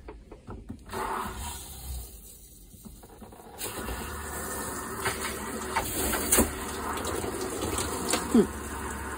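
A camper shower runs with pink RV antifreeze during winterizing of a Riverside Retro 135 trailer, giving a steady hiss of spraying liquid with clattering, gurgling bursts, fairly close and moderately loud.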